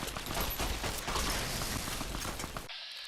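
Rapid pistol gunfire in Fallout: Tale of Two Wastelands on the Lonesome Road, a loud, dense burst of shots and mechanical clatter lasting nearly three seconds before cutting off abruptly.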